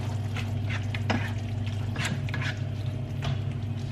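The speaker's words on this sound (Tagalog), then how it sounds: "Then haluin natin." Food with a little parsley stirred in a pan, a steady close scraping and sizzling texture with a few brighter stirring strokes over continuous cooking noise.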